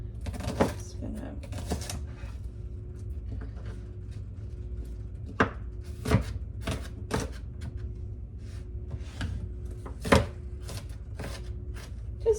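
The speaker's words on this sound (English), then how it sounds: "just give a little chop here" A knife chops shallot on a board for potato pancakes, giving a string of sharp, separate taps spread irregularly over the stretch, close and fairly crisp over a low background hum.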